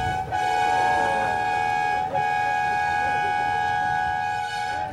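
A vehicle's sustained, loud multi-tone horn blares continuously, briefly dipping around two seconds before resuming, with low rumbling underneath.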